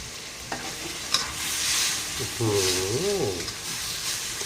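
Spicy pork stir-fried in a wok with curry paste and a splash of water, a steady close sizzle with scraping stir strokes, a clink near the start and a brief spoken voice in the middle.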